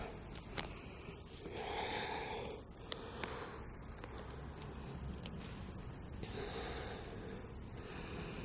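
Slow, deep breaths are drawn during a yoga practice while holding a split. A few quiet, drawn-out inhales and exhales rise over soft background hiss, with no talking.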